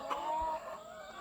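Free-range laying hens kept in a semi-free-range coop clucking, a short close cackle with a brief tonal call, no talk.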